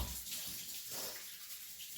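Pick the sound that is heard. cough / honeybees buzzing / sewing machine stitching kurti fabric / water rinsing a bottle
water rinsing a bottle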